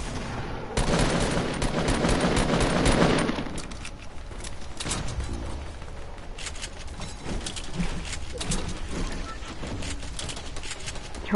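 Gunfire in a Fortnite battle royale match, with dense rapid bursts of automatic shots early on that thin out into scattered shots and impacts as the firing continues.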